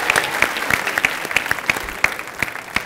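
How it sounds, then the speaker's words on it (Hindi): Studio audience at a televised comedy show clapping for Akshay Kumar, distinct, fairly sparse claps in an uneven rhythm, close and crisp rather than a dense roar. "एक बार अक्षय पाजी के लिए खुल के तालियां"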